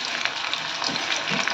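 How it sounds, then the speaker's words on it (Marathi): Sliced onion and dry coconut fry in a pan for a Malvani mutton curry, giving a continuous close sizzle with the soft scrape of stirring. "कांदा छान फ्राय केल्यानंतर मी इथे आता सुकं खोबरंसुद्धा मस्त छान फ्राय करून घेते"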